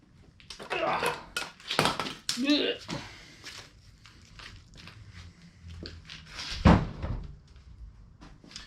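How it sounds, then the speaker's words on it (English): Cylinder heads being pulled off a high-mileage 6.0 LS engine at about 500K miles: a few loud metallic clunks and knocks with scraping between them, close by, with a heavy thud near the end. "so let's pull them off and see what they look like"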